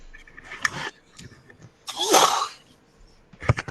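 A person sneezes during a live market-close broadcast, one loud burst in the middle, with softer coughing or throat sounds before and after, and brief talk in the background.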